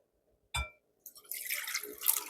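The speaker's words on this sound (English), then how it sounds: "I pour the warm water" Warm water is poured into a bowl for bread dough: a single close plunk, then a short pause before a rising, bubbling splash of liquid filling the bowl, with no talking.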